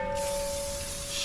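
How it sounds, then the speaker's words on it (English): A steady hiss from a spray can sprays continuously for about a second around a welding area, close and fairly loud, with a faint whine in the background. "spray a bit around where I'm going to be welding"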